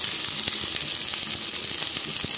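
Four lengthwise-sliced onions frying in oil in a kadai over a medium flame, a dense, constant hiss and crackle close up, with no voices.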